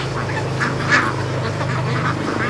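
Free-range ducks quack close by in a short run of soft, repeated calls over a steady low outdoor rumble.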